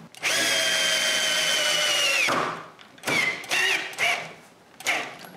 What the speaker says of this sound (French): Quand c'est fait, je peux visser la patte.